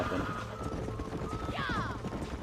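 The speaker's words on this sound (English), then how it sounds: "These are fine horses." Horse hooves clip-clopping in the Red Dead Redemption video game, a steady run of light taps over continuous game ambience, with a brief whinny-like sweep partway through.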